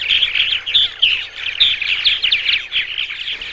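Purple martin song: a continuous stream of loud, gurgling, rolling chirps and twittering notes from a bird, steady and close with no talking.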